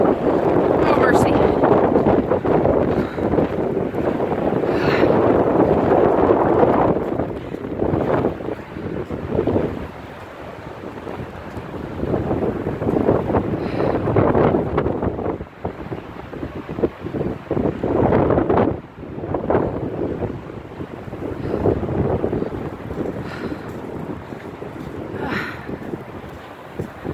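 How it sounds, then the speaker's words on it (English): Strong gusty wind from a winter snowstorm in downtown Chicago buffets the microphone in heavy roaring waves, easing and surging again, with someone talking now and then over it. "Windy out here today."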